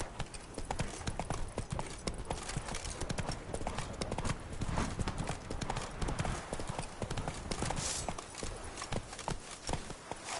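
Roach, the horse in The Witcher 3, gallops with steady, rapid hoofbeats that run loud and unbroken throughout.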